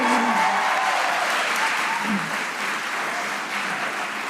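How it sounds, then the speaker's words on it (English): Graduates cheer and applaud at a fall commencement ceremony at Penn State Brandywine, a loud sustained wash of crowd clapping filling an indoor hall, with faint voices mixed in. "Go on and cheer."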